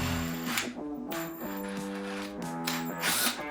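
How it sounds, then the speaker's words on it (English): A power drill whines through metal in a few short bursts, drilling out old threads in a Zoom H2N recorder's mount hole, its pitch shifting as it bites, close and moderately loud. "I'll drill out all 5 of these"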